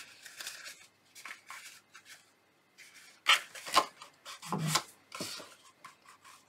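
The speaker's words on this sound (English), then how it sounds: "Gently burnish that." Bone folder burnishing cardstock along a straight edge while assembling a Halloween tombstone treat box, heard as soft close rubbing and scraping strokes in short irregular bursts, with no talking.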